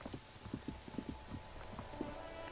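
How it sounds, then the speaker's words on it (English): Steady rain falling over the great city of Revachol in the video game Disco Elysium, a soft continuous patter with scattered close drips and taps, fairly quiet throughout. "rain falls on the great city of Revachol"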